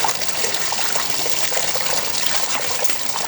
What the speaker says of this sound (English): So let's undo this clamp and see that rusty water come out.